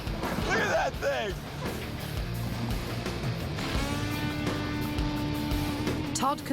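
A demolition machine tearing apart a railroad boxcar, heavy metallic crunches, screeches and banging with a sustained groaning squeal of bending steel, loud and close.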